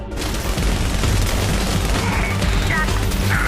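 Gunfire in Tom Clancy's The Division, set in New York City: dense, loud bursts of shots and booming impacts blend into a continuous barrage, with a brief voice over the action.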